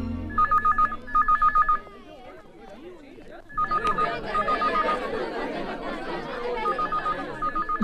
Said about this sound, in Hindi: रिया, कोई संजना का फोन है तुम्हारे लिए